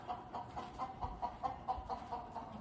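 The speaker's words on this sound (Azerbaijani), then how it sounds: "Fikir verin, hər tərəfdə toyuqlar var." Chickens cluck in a steady series of short, repeated calls, fairly close by, with no talking.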